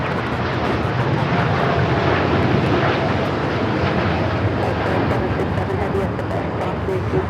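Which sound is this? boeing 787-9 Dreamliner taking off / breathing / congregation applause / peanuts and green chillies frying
boeing 787-9 Dreamliner taking off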